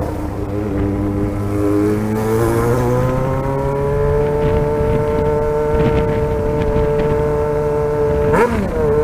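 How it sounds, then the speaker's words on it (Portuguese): A car engine drones steadily and loud throughout, its pitch rising gradually as it revs, with a brief sharper engine surge near the end. "Olha o carro querendo fazer barulho também."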